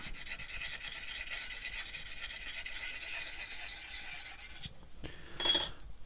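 Steady rasping of a favourite woodturning bowl gouge being touched up on a sharpener in a small shed workshop, a continuous grinding hiss that stops abruptly, followed by a brief sharp scrape, with no talk.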